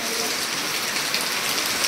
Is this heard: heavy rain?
yes